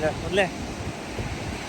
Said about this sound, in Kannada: ಗಾಳಿ ಭಾಳ ಐತಿಲ್ಲೇ.